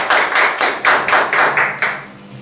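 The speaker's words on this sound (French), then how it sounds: "Acclamons pour le Seigneur." A church congregation clapping together in a steady rhythm of about eight close, crisp claps that fade out at the end, with no talking.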